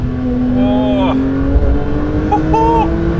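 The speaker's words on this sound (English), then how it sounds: "I love just pulling back, blasting through the gears." A Porsche 911 GT3 of the 992 generation accelerates on a mountain pass drive, its engine note climbing in pitch, dropping at a gear change, then rising again. The sound is loud and heard from the cabin.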